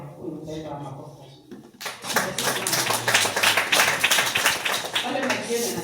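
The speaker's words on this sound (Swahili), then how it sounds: "Mpendwa makofi" A church congregation at a youth conference bursts into clapping after a short pause, a dense run of hand claps continuing steadily to the end, with some voices mixed in.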